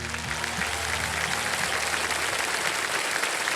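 A studio audience on a Hindi quiz show applauds a contestant who has just quit with 12.5 lakh rupees, a steady dense wash of clapping throughout with a faint low musical hum underneath.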